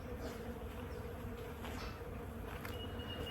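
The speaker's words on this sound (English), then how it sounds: "I don't know if you can hear the bees up in the Manchurian pears" A swarm of bees buzzes among blossoming Manchurian pear trees in a spring garden, giving a steady, faint, distant hum that runs continuously under outdoor ambience with no talking.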